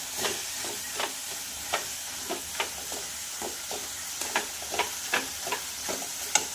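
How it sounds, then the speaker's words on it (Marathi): Spinach sizzles softly in a frying pan as gram flour is stirred in, a spatula scraping in a steady repeating rhythm over a constant frying hiss, close by and with no talk. "यानंतर आपल्याला यावर घालायचं आहे 2 चमचे बेसन पीठ आणि छान असं मिक्स करून घ्यायचं आहे"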